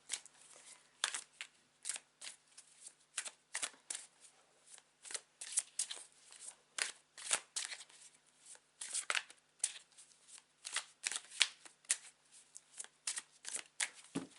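A tarot deck is shuffled by hand in quick, uneven bursts of crisp riffling card flutter, close and fairly quiet, with short pauses between passes.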